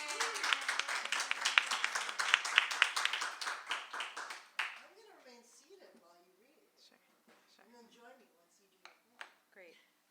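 Audience applause for two invited speakers at a book talk, a dense burst of clapping that swells for several seconds then fades into a speaker's voice with a few scattered claps.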